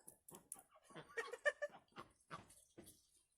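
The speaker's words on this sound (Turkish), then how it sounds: "Tavuklar var burada." Hens cluck in a series of short, choppy bursts, fairly close by in a village garden, with no one talking.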